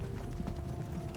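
Horse hooves clip-clop in the strategy video game Pike and Shot Campaigns, a brief steady run of muffled, low hoof beats under a dense background rumble.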